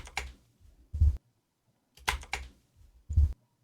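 Computer keyboard typing in short clusters of clicks and thumps, close and fairly quiet, separated by brief silences, with no speech.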